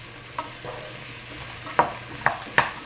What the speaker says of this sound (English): I'm just going to give this all a good stir